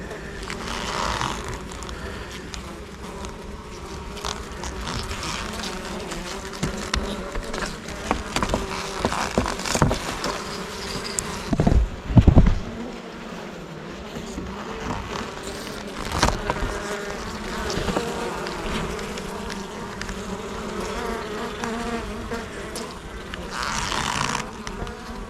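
Honeybees buzz at a hive during the honey harvest, a continuous close drone with individual bees passing near the microphone, under light handling noise and a brief louder bump midway, with no talking.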